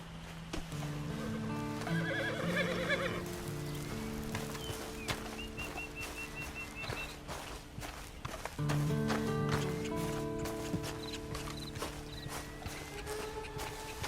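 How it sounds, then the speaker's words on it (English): In Red Dead Redemption 2, a horse whinnies and snorts up close, then its hooves clip-clop at a walk on the ground, with a second neigh partway through and faint birdsong behind. "And you better get on this horse."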